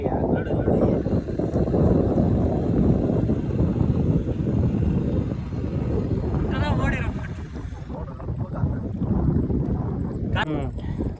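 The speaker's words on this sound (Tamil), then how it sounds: "காற்று அதிகமாக இருக்குது." Strong wind blows outdoors by a pond, roaring and buffeting the microphone in a continuous low rumble, with a voice briefly speaking over it.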